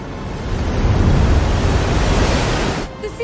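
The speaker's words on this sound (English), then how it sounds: "The sea is getting closer by the minute." Sea waves surge and wash as the liner Lusitania sinks in 1915, a loud, continuous rushing roar with wind-like noise that eases off near the end.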